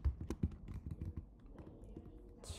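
Keys pressed on a calculator to enter a number, a short run of soft, close taps in a quick uneven rhythm, fairly quiet, with no one speaking.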